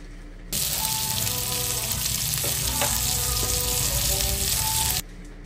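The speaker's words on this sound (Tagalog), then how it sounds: "Isunod ta ng aton nga bawang, sibuyas, kag isote ta lang isang maayo nga mag golden brown na sa." Garlic, onion and tomato sizzle loudly in hot oil in a pan for chopsuey, a dense, continuous frying hiss that starts abruptly and cuts off cleanly after about four and a half seconds, with no voices.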